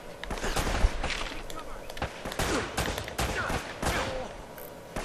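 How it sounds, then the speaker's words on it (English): Enemy rifle fire in Uncharted: Drake's Fortune, a scattered run of sharp gunshot cracks and bursts at moderate level, spread across a busy combat soundscape with a voice talking over it. "Oh god, they've got rifles."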